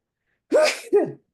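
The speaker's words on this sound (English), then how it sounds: "I knew that sneeze was coming." A person with a cold sneezes once, loudly and close up, giving a sharp double burst with a brief catch between the two parts, in an otherwise silent room.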